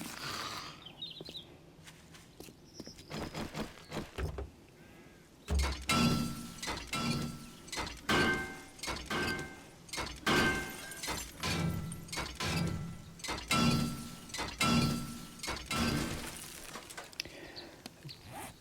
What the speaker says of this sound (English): I'm just going to wrench any cars I see along the way